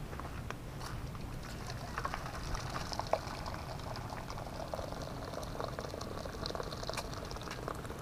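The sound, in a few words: hot water being poured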